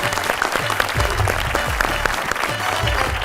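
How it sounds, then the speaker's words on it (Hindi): Studio audience applauding at the close of an Indian talk-show episode: dense, steady clapping from a sizeable crowd, loud and continuous throughout, with faint low voices underneath. "जोरदार तालियां आपके लिए।"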